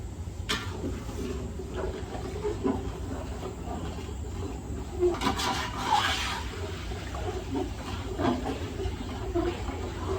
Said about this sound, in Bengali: গরম পানি দিতেছি, ফুটানো গরম পানি 1 পাতিলা।